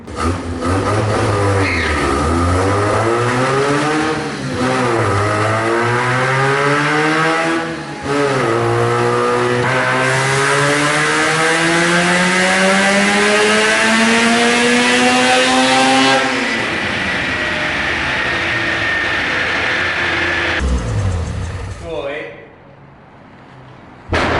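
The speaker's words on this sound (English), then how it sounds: "Get closer to the engine." A high-mileage track car engine on nitrous revs hard and holds a climbing, roaring pitch for several seconds, drops back, then cuts off near the end.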